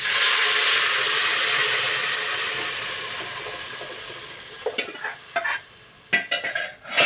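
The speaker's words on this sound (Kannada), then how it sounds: "ನಾನು ಈಗ ಒಗ್ಗರಣೆ ಹಾಕೊಂಡೆ" Tempering spices hit hot oil for a gravy with a loud, bright sizzling hiss that gradually fades, followed by several sharp stirring and scraping strokes in the pan.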